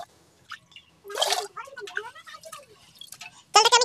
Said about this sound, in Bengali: এর মধ্যে আমি এখন জল দিয়ে চালটাকে ভালো করে ধুয়ে নেব